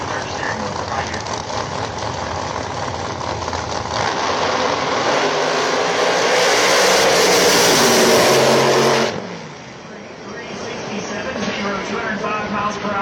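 Pro Nitrous drag racing cars roar down the straight track side by side during PDRA qualifying, a loud sustained engine blast that swells and then cuts off, with the commentator talking over the noise.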